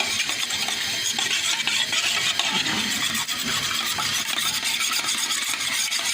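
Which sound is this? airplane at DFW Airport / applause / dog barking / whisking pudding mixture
whisking pudding mixture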